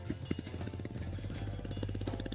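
A modified 50cc motorcycle engine fires up and runs, giving a steady, loud, rapid mechanical putter with fast rhythmic pulses throughout.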